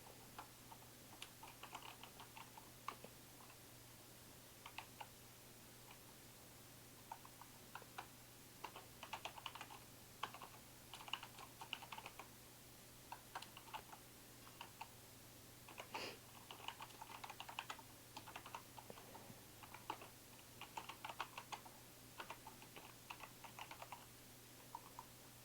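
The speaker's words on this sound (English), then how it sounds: "Now I need to type the intro." Fingers tap out C++ code on a computer keyboard in bursts of quick, faint, close clicks with short pauses between, over a low steady hum and no talking.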